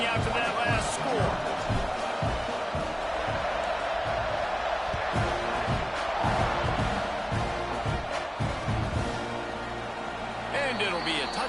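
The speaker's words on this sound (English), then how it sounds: "this crowd is buzzing after that last score." Stadium crowd in the College Football 26 video game keeps up a steady, dense buzz around a kickoff after a scoring drive, loud and continuous beneath running play-by-play commentary.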